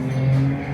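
A BMW M3 engine on the race track at Fuji Speedway holds a steady, droning tone with a strong low hum for under a second, moderately loud and without voices.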